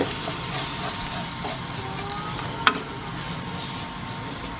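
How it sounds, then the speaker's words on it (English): Flour and spices are stirred in a sizzling pan while making enchilada sauce, a steady frying hiss with soft scraping strokes and one brief sharp clink midway, close and without talk. "we're going to give this all a good little stir together"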